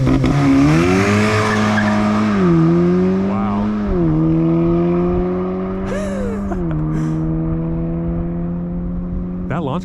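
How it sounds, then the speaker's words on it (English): A tuned 2018 8V Audi S3 at Stage 2 on E30 fuel makes a loud, close launch-control run: the engine revs steadily, then climbs through the gears with pitch rises and shift breaks, and the tyres squeal briefly. "He's gonna do a draggy test. He's gonna do launch control."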